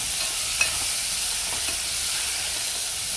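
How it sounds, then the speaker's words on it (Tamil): Tomato masala sautéing in a pan, a steady soft sizzle and hiss with faint stirring clicks, continuous and close. "ஒரு 2 மினிட்ஸ்க்காக நம்ம நல்லா வதக்கிடுறோம்."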